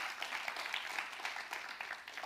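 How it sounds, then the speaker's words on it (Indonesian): A church congregation applauding during a family sermon, a soft, distant patter of many hands clapping steadily for a couple of seconds with no voices over it. "Kasih tepuk tangan buat Tuhan kita."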